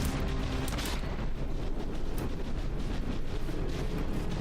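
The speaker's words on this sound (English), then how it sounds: "That's some fast guns." Rapid gunfire from fast-firing guns in the naval combat game From the Depths, a dense continuous barrage of booms and cracks running loud throughout with no talking.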